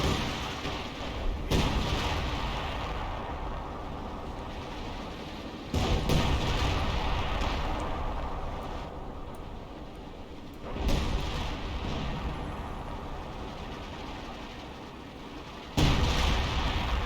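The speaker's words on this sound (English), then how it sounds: "He probably miscast that concentration barrage because that seemed like a bad spot for it." Artillery concentration barrage in Company of Heroes, heavy booming impacts landing every few seconds over a continuous rumbling battlefield roar, with no talking.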